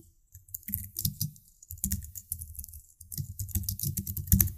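Rapid, irregular clicking of computer keyboard keys in bursts with short pauses, close and fairly quiet, with no talking.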